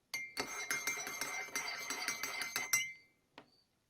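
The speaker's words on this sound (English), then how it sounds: "So if I stir this coffee clockwise, we get a Buddha swastika, a reverse swastika." A metal spoon clinks rhythmically against the side of a cup while stirring coffee, about a dozen bright, evenly spaced taps with a ringing tone, then stopping with one last faint tap.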